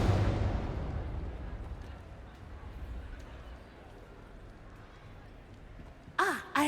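A Confringo blasting spell detonates in the Hogwarts Legacy video game, a loud burst at the start that decays into a long, low rumbling tail, followed near the end by a short vocal sound.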